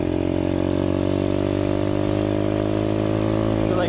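A 2019 Apollo 125cc motorcycle engine held at full throttle drones steadily and loudly, its strong harmonic whine sustained and slowly rising in pitch across the whole stretch, with no talk over it.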